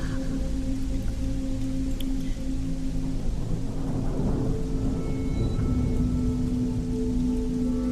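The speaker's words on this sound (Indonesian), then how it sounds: "Sambil menunggu hujan reda" Steady rain falls over a campus at nightfall, a dense, even hiss that fills the whole stretch without pause, with a low constant hum beneath it and no voices.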